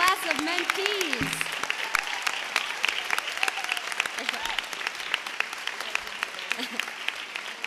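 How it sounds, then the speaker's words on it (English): An audience at a girls' mentoring program graduation applauds the class of 2012 mentees, a steady wash of many hands clapping with sharp individual claps on top and a few voices calling out near the start. "Round of applause for the graduating class of mentees."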